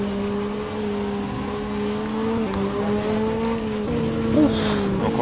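A BMW M4 C1 class 1 race car in rFactor 2 on the Nürburgring, its engine droning at steady revs with brief shifts in pitch, loud and continuous with no talk.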